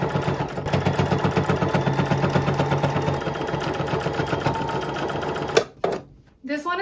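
Sewing machine stitching a tapered seam while altering clothes, a fast rhythmic clatter of needle strokes that runs steadily then stops, close and clear, with someone talking over it.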